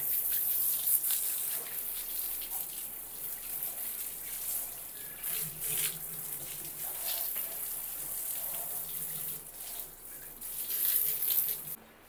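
Running tap water rinsing a surface just scrubbed clean with a brush during household cleaning, a steady splashing gush that fills the whole stretch, surging louder near the end, with no talking.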